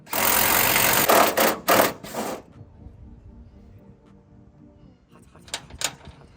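Metal threads are cut into a factory reservoir on a 1982 Chevrolet K5 Blazer. Close, rasping, scraping bursts run for a couple of seconds, followed by quiet with a few faint scrapes near the end.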